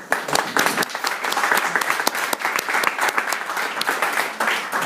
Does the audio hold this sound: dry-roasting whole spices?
no